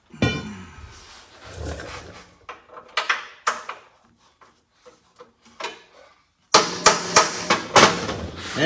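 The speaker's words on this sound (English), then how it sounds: "Hammer." A hammer taps a part into a battery box on a Mack CL713 truck, a series of sharp irregular metallic knocks, some faint and spaced, then a louder quick cluster near the end.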